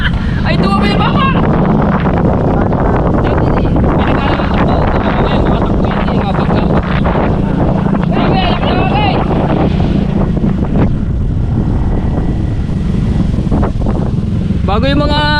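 Strong wind buffeting the microphone on a moving motorbike on a dusty road, a constant loud rumble under several voices talking and calling out.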